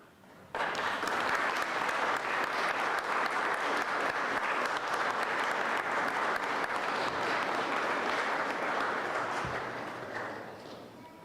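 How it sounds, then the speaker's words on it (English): A graduation ceremony audience breaks into applause, starting abruptly and holding a loud, dense, continuous wash of clapping for about ten seconds before easing off. Cheering is not distinct within the clapping. "express thanks for the support that you have received over the years by acclamation, applause, cheers"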